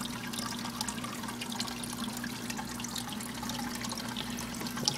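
Water is poured into soil in windowsill growing pods with a continuous soft trickling splash that stays even and close throughout.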